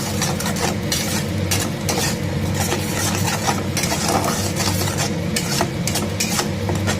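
Greens with turmeric frying in a pan, with a continuous loud sizzle and the busy scrape and clatter of stirring throughout, close by and with no talk.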